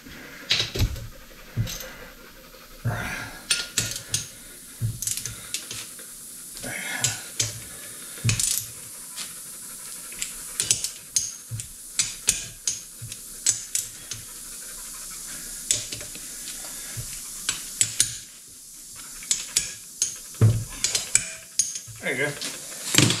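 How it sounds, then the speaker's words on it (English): A torque wrench tightens blower motor bolts on a molder planer, with irregular metallic clicks, clanks and ratcheting taps close by over a faint hiss. "We'll put the old"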